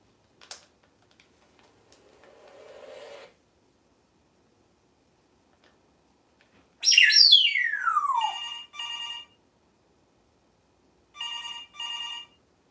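A pet cockatoo indoors mimicking a telephone ring with a sharp falling whistle, then bursts of clipped electronic ringtone-like chirps in pairs, clear and close in an otherwise quiet room.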